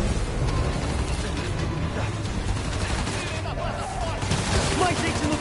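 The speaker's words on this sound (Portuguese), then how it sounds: "A polícia e os fugitivos estão atirando." Police and fugitives trade gunfire in the Spider-Man Miles Morales video game, a dense clatter of rapid shots and mechanical clicks layered over busy action noise.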